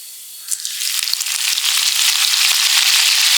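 Cumin seeds and curry leaves hit hot oil in a pan, with a sudden loud continuous sizzle and crackle that rises and holds, popping throughout.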